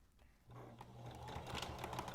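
A sewing machine stitching along the edge of fabric for a face mask, starting up after a short pause and running in a steady whirring, rapid needle rhythm, close and fairly quiet.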